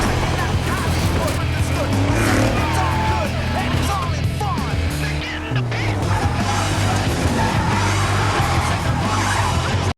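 Cars race through city streets in a film street race, engines revving hard and tires squealing and skidding, loud and continuous with shifting engine pitch, mixed with dramatic film sound and a voice talking over it.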